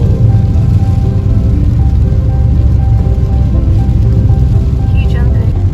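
Torrential rain outside at Milford Sound, a dense, loud, constant hiss and patter of heavy downpour, with people talking over it.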